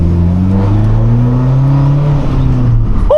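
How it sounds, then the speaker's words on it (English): A BMW 535d diesel accelerating hard, its engine note climbing steadily as the turbo whistles, loud and close with no talking over it. "You know that diesel whistle?"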